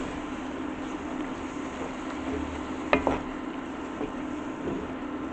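A spoon stirring vegan picadillo with tomato sauce in a pan, a soft scraping sizzle with one sharp clink against the pan partway through, close and steady without talk.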